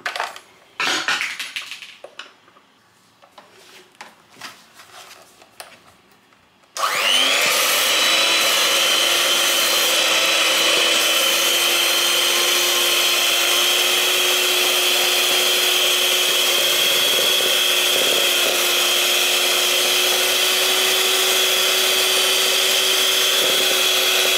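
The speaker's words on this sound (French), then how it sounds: "J'ai récupéré mon petit hand mixer." Small electric hand mixer whirring loudly and steadily after a few seconds of quiet kitchen clatter, its motor whine holding constant for the rest of the clip, with no talking.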